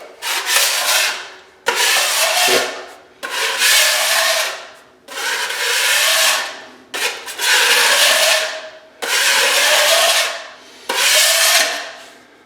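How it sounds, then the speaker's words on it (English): Repeated long scraping strokes drag across a floor as black mastic is lifted after removal of vinyl squares in a rental remodel, seven loud rasping passes in a steady rhythm with brief pauses between. "scrape up the black mastic"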